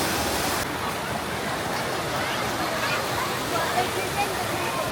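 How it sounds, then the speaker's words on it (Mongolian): A public fountain at Alexanderplatz in Berlin gushes in a steady, broad rushing roar of falling water, continuous and fairly close throughout. "За одоо тэрнээс ус гоочлоо."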